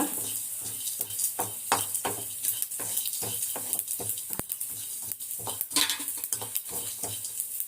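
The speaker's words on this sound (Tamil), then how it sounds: "இதுலேயே தனியா, மிளகு, ஜீரகம் எல்லாமே வறுக்கணுங்க." Coriander seeds, black pepper and cumin dry-roasting in a pan for a horse gram rasam, a spoon scraping and clinking in a steady rhythm over a faint crackle, close and fairly loud.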